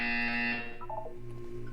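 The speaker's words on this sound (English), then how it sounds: "You will hear a buzzer." A loud buzzer from the video game Portal 2 holds a steady electronic tone for about half a second, then gives way to quieter beeps and a low hum.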